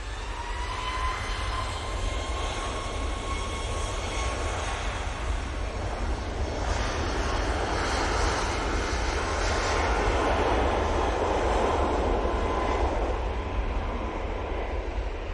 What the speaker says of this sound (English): Next in, we'll have the Ryanair from Paphos, using 737 MAX 8